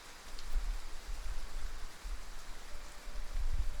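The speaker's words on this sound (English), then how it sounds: "Honest to goodness, rain!" Steady rain falls in a video game scene, a dense even hiss with soft low thumps of drops hitting a surface, moderately loud and continuous throughout, with no voices.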